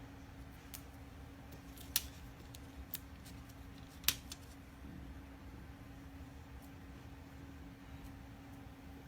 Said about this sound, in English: And I just use a pair of scissors